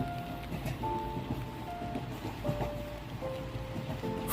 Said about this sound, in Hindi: फोन के उस पार कुछ पल तक सिर्फ बारिश थी।